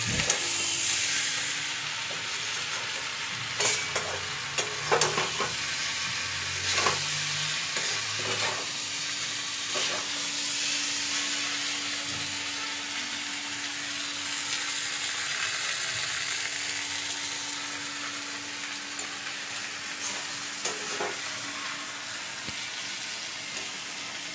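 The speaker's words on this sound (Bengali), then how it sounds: "ভালো করে কষিয়ে নিয়ে রান্না করবো" Dried fish (shutki) stir-fried in a pan, with a steady close sizzle and hiss of frying. Occasional scrapes and knocks of a spatula stirring against the pan rise above it.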